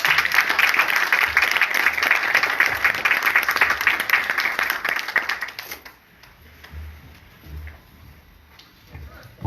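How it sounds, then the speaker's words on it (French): Church congregation claps in a dense, lively burst for about six seconds, then the applause dies down into quieter room sounds and murmuring. "on nous applaudit bon Dieu"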